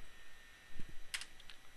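Quick keystrokes on a computer keyboard entering router commands, a few soft close clicks and taps in a short burst over faint room hum.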